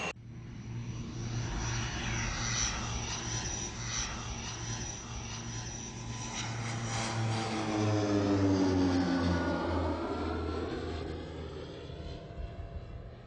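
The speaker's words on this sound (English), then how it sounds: "The plane flies low and slow over the terrain to collect data." A low-flying aeromagnetic survey airplane drones steadily overhead for the whole stretch, with a sustained engine hum and a rising, shifting whine as it passes close by, with no talking.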